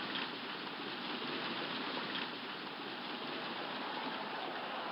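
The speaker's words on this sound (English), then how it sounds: "Here comes the rain." Steady rain falls on a Los Angeles ballpark in a retro baseball video game, a dense, even hiss of downpour running throughout without a break, fairly soft and with no voices over it.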